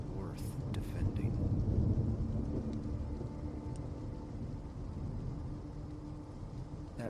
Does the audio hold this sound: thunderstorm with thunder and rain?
yes